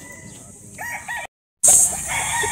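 Broodcock rooster at a gamefarm, loud close crowing in two bursts separated by a short gap of silence, with clucking before the first crow.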